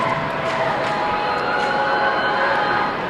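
Packed high school basketball gym during Madison Central v Madison Southern district game, student sections full, crowd noise as a dense, steady roar of voices throughout, loud and close.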